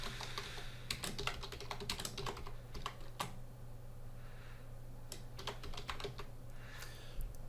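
Someone types a file name on a computer keyboard, quick uneven bursts of soft key clicks with short pauses, close but quiet, over a faint steady hum.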